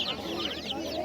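Chicks and hens at a poultry market in Oqdaryo, Samarqand, cheep and cluck densely in a busy chorus, with high peeping calls over a rumble of crowd noise.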